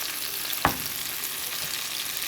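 Tomatoes frying in a pan for bagoong, a steady even sizzle throughout with one brief sharp clack of a utensil partway through, close and with no voices.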